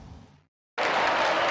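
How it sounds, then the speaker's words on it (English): Courtroom applause in Phoenix Wright: Ace Attorney. A short hiss of sound cuts out, then after a brief pause a burst of steady, dense crowd clapping begins and continues. "Confetti all over the courtroom. Everyone applauds."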